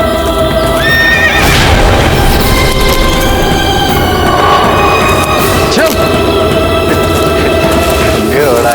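Horse whinnying loudly amid a dramatic period scene with hooves clip-clopping, a rising neigh over dense orchestral music and busy background.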